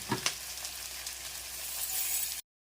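Onions, green chillies and tempering spices sizzle steadily in hot oil for pulihora, a dense continuous fry hiss with a couple of stirring scrapes near the start, close and fairly loud until it cuts off.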